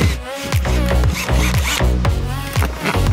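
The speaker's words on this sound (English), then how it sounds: "we're just popping a couple of holes in the roof of the van." Holes being cut into the metal roof of a Mercedes Sprinter van, a close, loud series of quick rasping, grinding strokes repeating in a steady rhythm.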